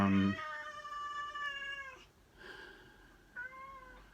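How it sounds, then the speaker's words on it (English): A cat meows several times in a row, the calls drawn out and whiny, with a brief pause before a final shorter meow; fairly quiet, no talking. "I apologise for the cat"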